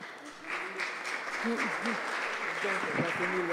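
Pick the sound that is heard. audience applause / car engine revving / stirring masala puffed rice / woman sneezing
audience applause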